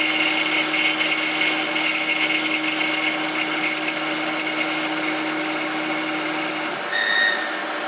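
A Denford Orac CNC lathe turns 6mm brass rod down to 3.6mm in traversing cuts, giving a steady high-pitched machining whine with tonal hum. The cut stops near the end and the motor note drops.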